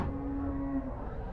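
A Jersey bull at a Monday cattle market in Melapalayam, brought for Bakrid sale, lets out a single close, low, drawn-out moo.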